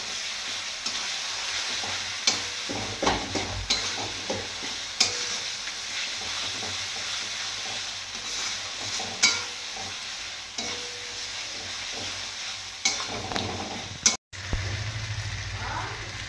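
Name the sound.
spices being stir-fried with salt and turmeric in a pan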